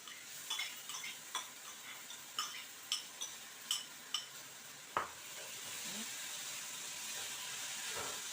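Boiled ingredients go into a hot pan and are stirred, with a run of light, evenly spaced scraping ticks. A sharp clack follows, then a steady, faint sizzle that grows slightly louder.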